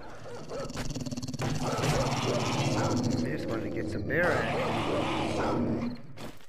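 A zombie dog in the 7 Days to Die video game on PS4 growls and snarls in a continuous, harsh rumble lasting several seconds, loud and close, over game sounds.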